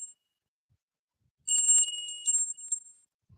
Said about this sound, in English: gonna do a ringing the bell for Abigail as well.